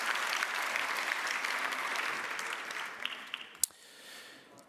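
An audience at a benefit gala claps steadily for a speaker, a broad wash of applause that holds for several seconds before thinning into a few scattered final claps and quiet room murmur.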